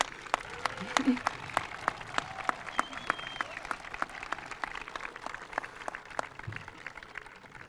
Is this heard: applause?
yes